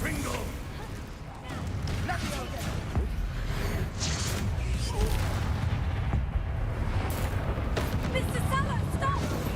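Confringo blasting-spell explosions go off in the video game Hogwarts Legacy during a combat sequence. The booms are loud, dense and repeated, set over a rumbling battle din, while a voice calls out in between.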